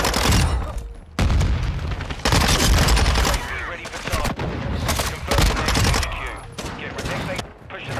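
Rapid, loud bursts of gunfire from a player's weapon in the shooter game Call of Duty MWII, dense and nearly continuous with a brief gap early on, while a player talks over the shooting.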